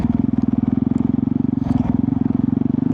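A motorcycle engine thumps in a fast, steady pulsing rhythm, loud and close throughout, with a slight rise in revs partway through and no talking.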